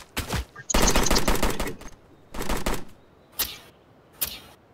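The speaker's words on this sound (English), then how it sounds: "we're taking accurate small arms fire from the north" Small arms gunfire crackles in Roblox Blackhawk Rescue Mission 5, loud and close, in several sharp bursts: a short volley, a long rapid stream, another burst, then two single shots, with quiet gaps between.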